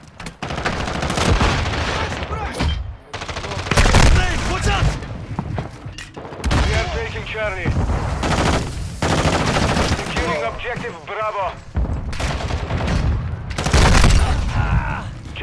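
Heavy, near-continuous gunfire in Call of Duty Modern Warfare 2 multiplayer, with shotgun blasts, explosions and scattered shots packed together, under radio-style team voice callouts.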